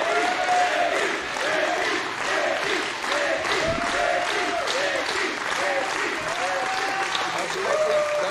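Wrestling crowd at an IWA Mid-South deathmatch event clapping and cheering loudly, with sustained applause and rhythmic chanting voices rising and falling throughout.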